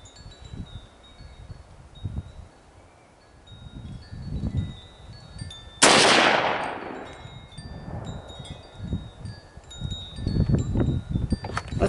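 A single sharp, loud gunshot rings out as a hollow point bullet is fired at a steel brake rotor outdoors, its report decaying over a second amid wind noise and light rustling.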